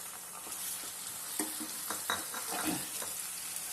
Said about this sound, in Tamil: இதை போட்டு நல்லா பச்சை வாசனை போகிற வரைக்கும் நம்ம வதக்கணும்